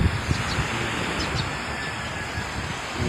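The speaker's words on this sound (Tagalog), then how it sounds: "ang lakas po ng hangin" Strong wind blowing at a seaside spot where a small outrigger boat's crossbeam has snapped, a steady loud rushing roar with buffeting gusts against the microphone.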